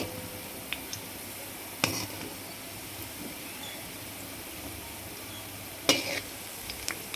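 Sweet rava and coconut milk balls fry in oil after being turned, a soft continuous sizzle with a couple of brief clinks of a utensil against the pan.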